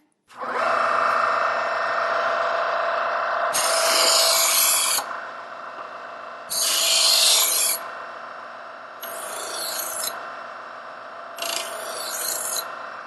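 A Kitchen IQ adjustable electric sharpener with interlocking wheels hums steadily while a German-style knife is drawn through it in four loud, rasping grinding passes, each lasting about a second.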